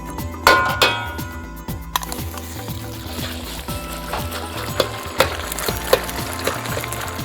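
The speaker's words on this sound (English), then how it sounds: "Now the oil is hot enough. What I'm going to do is flash fry this beef." Beef being flash fried in hot oil at home, with a loud burst of bubbling, crackling sizzle that keeps going steadily. Sharp metallic clinks and scrapes cut through it now and then.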